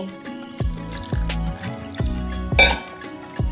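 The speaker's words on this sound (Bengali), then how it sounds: "এটাকে আমি একটু জল দিয়ে গুলে নেব" A spoonful of flour is stirred with water in a small bowl. The spoon clinks against the bowl in about six quick, close taps with brief wet swishes between them.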